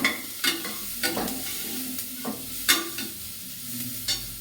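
Onions frying in a pan, turning brown, with a soft continuous sizzle and a spoon scraping and stirring in repeated strokes about every half second, close and alone.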